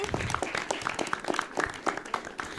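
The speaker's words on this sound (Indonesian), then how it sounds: "Tepuk tangan" An audience applauds a guest speaker, author Freddy Setiawan, at a cultural gathering, with dense clapping filling the room at moderate level and a few scattered louder claps standing out.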